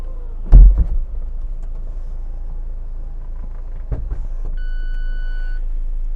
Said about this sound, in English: this car's party trick is the power retractable hardtop, which is really easy to use